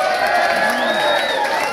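Audience applause and cheering for the stage and lighting crew at a Daryl Braithwaite hotel show, a steady dense crowd wash of clapping and whoops throughout, fairly loud and continuous.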